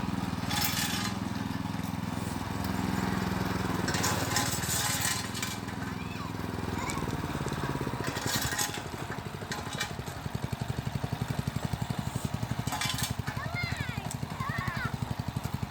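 Krisbow Pro cultivator engine running steadily in first gear in a home garden plot, a loud continuous small-engine drone with a rougher, rapidly pulsing chug in the second half, voices speaking over it at times.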